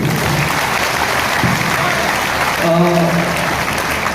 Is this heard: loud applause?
yes